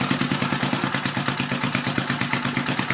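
A rebuilt Briggs and Stratton 2HP small engine on its first start after a complete rebuild, running loud and close with a fast, even, thumping putter and slight clatter.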